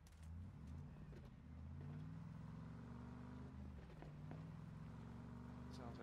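A car engine in the video game PUBG hums steadily as it drives, with low droning tones that shift in pitch, quiet and continuous.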